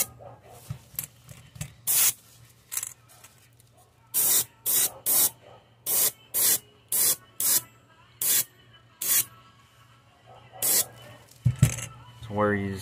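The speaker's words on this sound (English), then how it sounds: "And we're just going to spray this random too." An airbrush sprays pearl lime green paint onto a fishing lure in a series of short, sharp hissing bursts, about a dozen in even rhythm, close and loud over a faint low hum.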